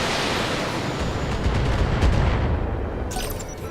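A loud, rumbling barrage of long-range missile launches and blasts in the video game Battletech rolls on, booming thickly before tapering off near the end.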